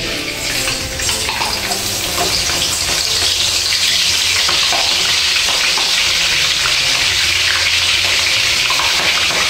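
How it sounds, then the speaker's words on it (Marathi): Green chillies fry in hot oil for chivda, a loud, steady, dense sizzle that continues without a break throughout. "आता आपल्याला हिरव्या मिरच्या तळून घ्यायच्या आहे"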